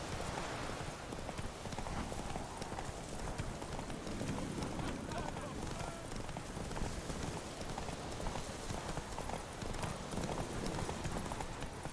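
Roach the horse gallops in The Witcher 3 video game, with rapid rhythmic clip-clop hoofbeats running continuously during a race, faint and mixed under game ambience while someone talks over it.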